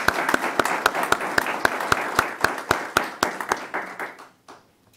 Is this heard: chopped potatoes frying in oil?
no